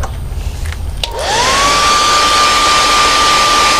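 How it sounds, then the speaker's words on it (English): A heat gun heat-setting paint on a fishing lure clicks on about a second in and settles into a loud, steady blowing whine with a rising motor tone, close and continuous. "Now we want to get a really good heat set on that."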